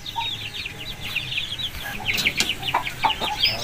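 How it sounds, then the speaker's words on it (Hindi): Aseel chickens in a breeding setup cluck and chatter in quick, irregular bursts, close and moderately loud, with faint background noise between calls. "ये 2 मुर्गियाँ लगाई हुई हैं"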